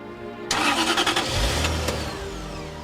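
A supercharged Jaguar XKR engine cranks and fires at once, then settles into a strong, close rumbling idle with a slight rev, loud and steady.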